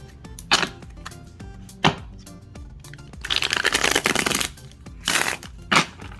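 Oracle cards being shuffled by hand: sharp riffling bursts and a few crisp snaps, with brief pauses between shuffles, close up.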